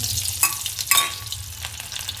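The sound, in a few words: garlic sizzling in hot oil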